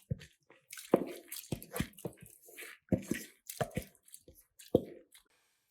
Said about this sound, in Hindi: अब ये सारी दाल मैं इसके अंदर डाल दूंगी